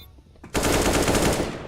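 AK rifle gunfire in Counter-Strike: Global Offensive, a sudden sustained automatic burst of rapid, loud shots that follows a brief quiet lead-in, with no talking.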